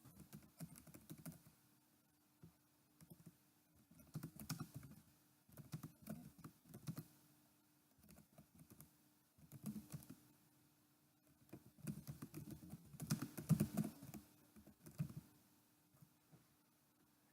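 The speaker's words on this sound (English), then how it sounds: "we have a space here where we can type in a little explanatory note" Typing on a computer keyboard comes in quiet bursts of soft, quick key clicks with short pauses between them, close and faint with no voices.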